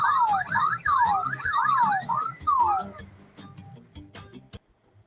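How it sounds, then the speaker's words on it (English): A warbling electronic car alarm sounds from a Lionel toy train auto carrier, a rapid rising-and-falling siren pattern cycling through several sweeps over about three seconds, close and fairly loud, with a person talking over it as it fades. "it'll actually set off the alarms and the car alarms inside of the auto carrier"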